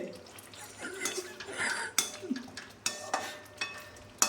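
Sweet pongal being stirred in a cooking pan with a spoon, giving repeated scraping and soft clinks against the metal over a faint sizzle, close and moderately loud.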